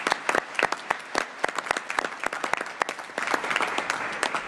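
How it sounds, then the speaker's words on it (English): An audience at a government field hearing applauds, with sparse, distinct individual claps rising into a fuller patter of clapping toward the end, moderately quiet and heard without speech. "Let's give them a round of applause."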